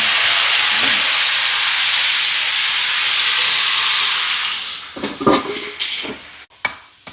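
Peanuts dropped into a hot frying pan with cooked okra, giving a steady loud hiss and sizzle that shifts into sharper crackling bursts and clatter near the end.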